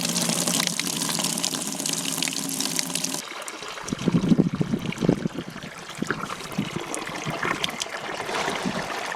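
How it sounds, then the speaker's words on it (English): Water runs steadily into a self-watering vegetable planter, a continuous close splashing and trickling flow that shifts to a lower, gurgling fill partway through and carries on without talk. "We'll fill it with water next."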